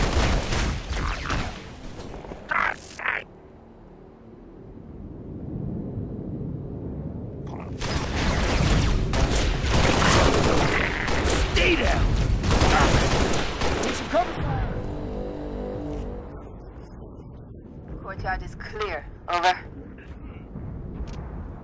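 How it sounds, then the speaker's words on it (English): Rapid gunfire and booming blasts from a Halo Reach mod of a Call of Duty game ring out in loud bursts, mixed with radio-style voices, heavy rumbling effects and mechanical game sounds. "under fire."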